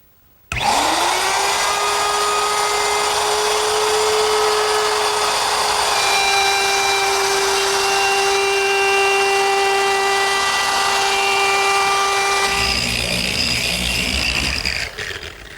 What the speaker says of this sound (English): you want to move the router with the rotation of the bit